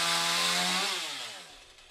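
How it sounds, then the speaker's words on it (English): A chainsaw cuts limbs from a tree lying on a roof during tree removal. The steady high whine holds, then the pitch drops and the sound fades as the cut finishes. "sawing off limbs, removing the tree from the roof, and turning the branches into wood chips"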